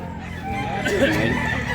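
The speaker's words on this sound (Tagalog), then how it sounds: "Wapo kayo manok ka. Gandang manok." Rooster sounding up close amid farmyard noise, a short vocal burst over a steady background, with a voice faintly present.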